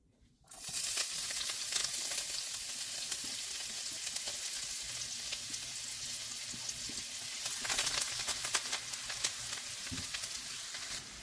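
Seasonings dropped into a pan of hot coconut and avocado oil burst into a sudden loud sizzle, then hold a dense, even frying hiss that swells slightly toward the end.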